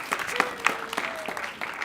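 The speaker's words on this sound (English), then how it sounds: "I want to give a round of applause for them as well." A small group claps briefly, a scattered patter of applause at moderate volume with a faint tone underneath.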